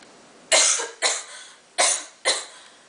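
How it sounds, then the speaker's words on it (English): Four harsh, chesty coughs burst out from one nearby person in two quick pairs, each a loud sharp onset fading over half a second. "this nasty cough just won't go away"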